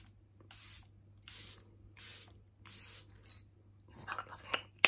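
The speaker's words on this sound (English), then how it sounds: "all you do is spray it like this" Four rhythmic bursts of Airbrush Flawless Setting Spray hiss from a pump bottle, each short and close, followed by soft handling rustles and clicks.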